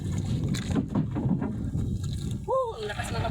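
Strong southwest monsoon wind buffets the open air outdoors in gusty rumbling bursts, with water sloshing nearby and a voice calling out near the end.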